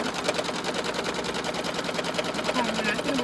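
An embroidery machine stitches a table runner with a fast, steady mechanical chatter of rapid needle strokes running throughout, loud and close, with a faint hum beneath.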